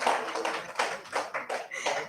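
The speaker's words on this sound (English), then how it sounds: "Can I have a huge round of applause for Chris Clive?" A small audience claps for a guest called up at a talk event, a quiet, uneven run of hand claps that swells and fades in short bursts, with no talking.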